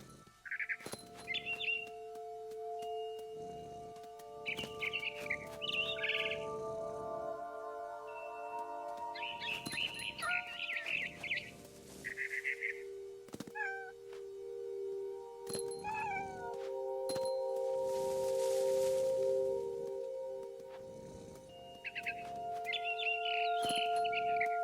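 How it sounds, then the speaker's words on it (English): Repeated high, melodic chirps and trills of a barn swallow in a video game, in short bursts over a steady tonal background, with cat-like meows mixed in; no talking. "Then I heard chirping outside my window. It was a barn swallow going back to her nest."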